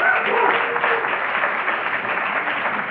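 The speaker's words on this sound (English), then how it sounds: "let's applaud and hoop and holler between questions" Audience at a debate applauding between questions, a steady dense wash of clapping that holds evenly for a few seconds without pause.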